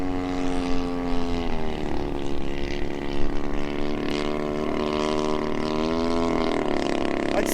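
A radio-controlled Maxford USA Antonov An-2 biplane model with a 50cc engine drones steadily overhead, its buzzing propeller note rising and falling in pitch as it passes and banks, fairly loud with no talk.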